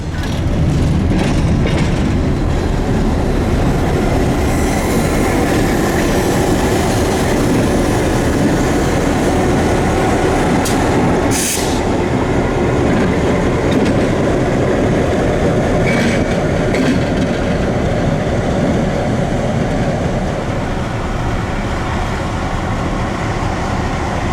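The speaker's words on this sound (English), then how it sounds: "As the train slowed to a stop" A Florida Northern Railroad freight train hauled by a high-hood GP18 locomotive rumbles past slowly and steadily, with low rolling noise, occasional wheel clatter and brief metallic squeals, loud and continuous throughout.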